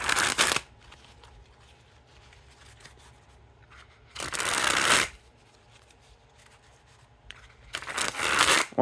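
Theory11 JAQK Cellars playing cards are sprung from hand to hand in three quick crisp riffling bursts, each lasting under a second with quiet pauses between, close and clear.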